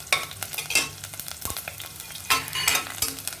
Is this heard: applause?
no